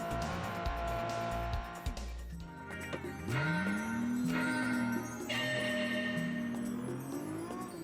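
A racing car in the Automation game launches hard on the throttle, its engine note sweeping up steeply and holding a loud, rising whine with bursts of tire squeal over rough low rumble, heard alone with no talking.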